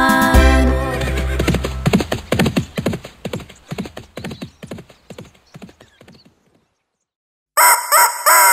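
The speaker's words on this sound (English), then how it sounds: "When the sun came up, Bartolito crowed like this" A rooster on a farm crows loudly and close by, a short burst of bright, strained calls after an earlier stretch of clattering and other animal-like sounds.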